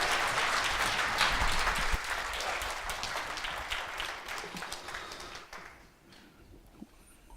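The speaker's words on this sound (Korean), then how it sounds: "여러분 박수로 할렐루야 하시면서 환영하시겠습니다" A church congregation at a Korean CBMC convention in Tokyo applauds to welcome Pastor Kwon Jun. Sustained clapping fades out after about six seconds, leaving a quieter room with a few stray claps.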